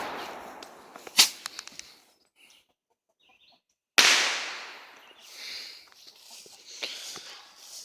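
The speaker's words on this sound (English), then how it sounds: "I'm gonna do some more fireworks off camera" Fireworks crack and pop outdoors: a sharp burst of crackling reports, a quiet gap, then a sudden loud bang followed by fizzing, hissing sparks and scattered smaller pops fading out.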